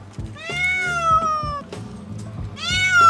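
A cat being released outdoors into a neighborhood lets out two loud, drawn-out meows close by, with a pause between them and some rustling and handling noise underneath.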